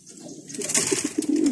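A pigeon coos in a loft, giving a few soft, low rolling calls close by, each rising into a longer throaty coo, with no talking.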